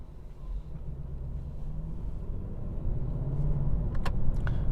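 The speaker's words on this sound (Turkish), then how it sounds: "Hem acıkta bastınca da güç buradayım diyor. V8 neticede." A Lexus LC 500 with a V8 engine accelerates on an open road. The engine gives a low, steady rumble heard from inside the car, and it grows gradually louder toward the end.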